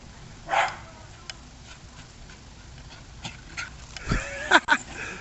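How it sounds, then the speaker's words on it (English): A small dog gives a few sharp, yappy barks, one early and a quick cluster near the end, over a quiet outdoor background. "that's a ferocious little dog"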